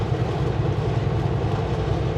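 A Canadian Pacific freight train rumbles past at Rogers Pass in the mountains, a steady, loud, low rolling roar with continuous wheel and car noise. No one speaks.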